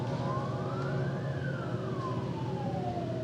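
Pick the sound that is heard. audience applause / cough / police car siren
police car siren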